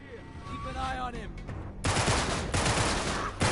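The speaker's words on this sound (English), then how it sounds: "I didn't know that they could shoot at me through the floorboards." Enemy gunfire in Uncharted 3: Drake's Deception, shooting up through floorboards, breaks out in loud, dense bursts after a quieter stretch of game sound and keeps rattling to the end.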